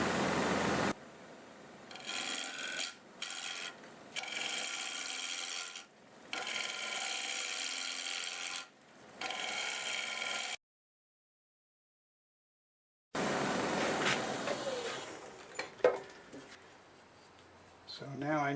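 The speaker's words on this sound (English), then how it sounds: "5/8 bowl gouge." A 5/8 bowl gouge cuts a square maple bowl spinning on a lathe at about 1300 RPM, giving loud, close, intermittent scraping bursts of wood cutting, broken by pauses and one stretch of silence.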